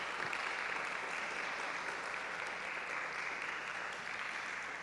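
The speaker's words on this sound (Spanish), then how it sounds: "Denle un fuerte aplauso al Señor." Loud, sustained applause from a church congregation honoring the Lord during a sermon, a dense steady wash of clapping with no break across the whole stretch.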